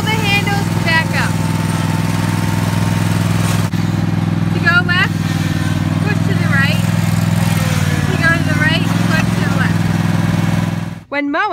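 A riding lawn mower engine runs at steady idle or part throttle, a loud, close, continuous drone, while people speak over it; the engine cuts off abruptly near the end.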